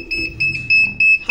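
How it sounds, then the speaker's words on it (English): An indoor smoke alarm sounds a run of short, sharp, high-pitched beeps in a regular repeating pattern, loud and close, with faint low background noise between them. "I'm sorry about that beeping."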